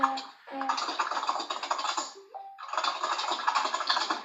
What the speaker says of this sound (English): I hear a lot of sounds in the back. So it's my keyboard, George.